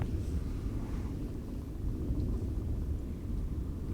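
Distant thunder rolls as a low, continuous rumble during a storm in Utah, steady and fairly loud with no voices.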